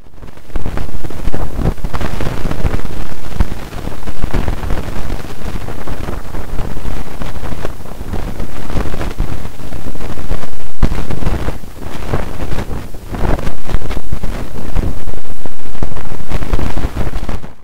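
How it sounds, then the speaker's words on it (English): Audified solar wind magnetometer data renders unremarkable solar wind turbulence as a loud, continuous roaring rush, like gusty wind or surf, swelling and dipping irregularly throughout. "This is an example of what unremarkable solar wind turbulence sounds like."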